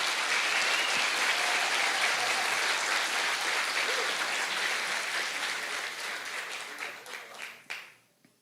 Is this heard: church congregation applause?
yes